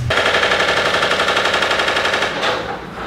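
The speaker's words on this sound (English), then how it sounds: "Tulum has a lot of construction going on right now" Loud, continuous rapid mechanical hammering from construction work in Tulum, Mexico, a dense rattling clatter like a jackhammer or power tool, steady for three seconds with no voices.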